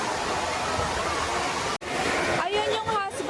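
Niagara Falls splash area, a steady loud wash of falling water roaring throughout, with a voice talking over it near the end.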